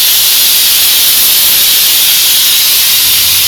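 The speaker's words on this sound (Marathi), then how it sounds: "कुकरने मस्तपैकी सिट्टी केलेली आहे" A pressure cooker lets off steam while pav bhaji is being made at home: a loud, close, continuous hiss that holds steady and unbroken for the whole stretch.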